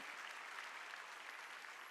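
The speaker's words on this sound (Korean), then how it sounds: "박수죠." Applause from a church congregation during a Sunday worship service, a steady, fairly distant wash of clapping without pauses.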